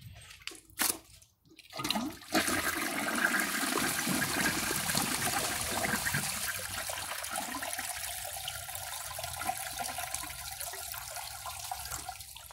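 A 1994 Peerless Hancock toilet flushes with a washcloth in the bowl: a couple of sharp clunks from the handle, then a loud rushing swirl of water that slowly settles into a steady refill hiss.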